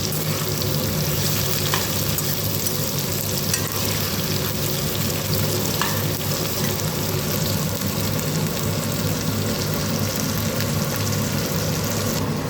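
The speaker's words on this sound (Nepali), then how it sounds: "केही बेर म यो भेन्डीलाई पनि अब यसरी भुट्ने छु" Okra (bhindi) fries in a pan with turmeric, a dense continuous sizzle loud and close throughout, with faint scraping of stirring.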